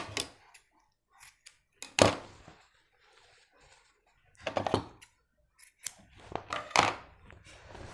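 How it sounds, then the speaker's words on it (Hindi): Scissors snipping through the seam margin of jacket fabric, a few sharp close crunching cuts spaced apart, with quiet pauses and light handling clicks between them. "फिर उसी तरीके से हम इसका मार्जिन काट देंगे।"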